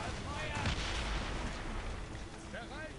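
Gunboat cannon fire in the naval combat of Assassin's Creed Rogue, booming shots over a steady roar of sea and ship noise, with faint game voices and whistling projectiles.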